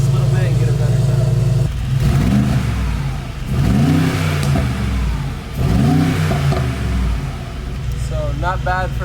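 A stock 2021 Mercedes G63 AMG in Sport Plus with exhaust valves open gives loud close revs after a steady idle, three rising-and-falling roars, with a voice briefly speaking near the end.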